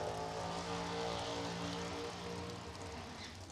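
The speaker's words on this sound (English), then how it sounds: "Wow, that's quite a burnout." A drag racing car at a West Coast Classic test-and-tune session does a burnout on the far side of the track, its engine a loud, steady, droning roar that eases slightly toward the end.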